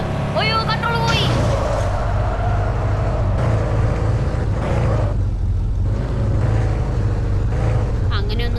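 Car engine revving and drifting in a racing video game, loud and continuous throughout, with a brief squeal at the start and game sounds mixed in.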